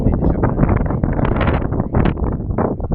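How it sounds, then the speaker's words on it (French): Strong Mistral wind buffets the microphone outdoors near Fayence in southern France, producing loud, continuous rumbling gusts that surge and fade throughout. "Il y a beaucoup de vent de Mistral"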